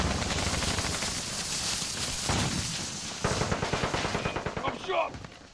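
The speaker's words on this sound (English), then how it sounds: "I already hear the shotgun" Rapid shotgun and automatic gunfire in the Modern Warfare Warzone video game, dense repeated loud blasts filling the whole stretch with a steady rhythmic burst near the end.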